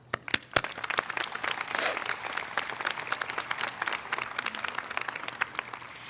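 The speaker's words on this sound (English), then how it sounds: "you all deserve a round of applause" Graduates and guests applaud at a graduate commencement ceremony, a full, crackling burst of clapping with a few loud nearby claps at the start, sustained evenly for several seconds.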